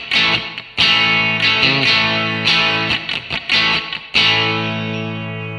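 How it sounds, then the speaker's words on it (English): Distorted electric guitar strumming for the song You Just Can't Beat Jesus Christ, loose rhythmic chords mixed with muted ghost-note chops, loud and close with no voices. "those ghost notes come out when you loosen your grip on the right hand"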